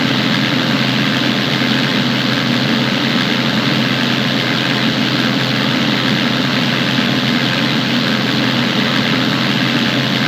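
A tow plane's propeller engine drones steadily and loudly while pulling a glider through the air, a constant low hum with wind noise throughout.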